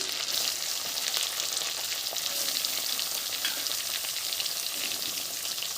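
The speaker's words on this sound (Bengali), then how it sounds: "এবারে দিয়ে দেব দুটো শুকনো লঙ্কা দিয়ে দেবো পেঁয়াজ কুচি" Dried red chillies and chopped onion fry in a pan over black cumin paste for a Bengali village dish, producing a dense, loud, continuous sizzle with no voices over it.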